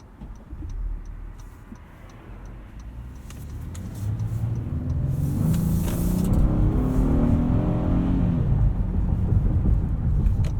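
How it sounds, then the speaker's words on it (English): A 2019 Honda Passport Elite AWD with a V6 and nine-speed automatic accelerates from inside the cabin, a low engine rumble building steadily and rising in pitch with a faint ticking overhead. "this V6 is a sweet motor"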